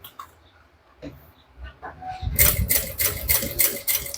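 A sewing machine stitches a handbag seam, starting with a few scattered knocks and clicks before breaking into a steady, loud, rapid run of needle strokes for the final couple of seconds.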